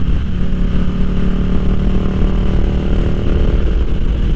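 Ducati Diavel 1260 motorcycle engine while riding solo, a loud steady rumbling drone with constant wind buffeting, close and unbroken throughout.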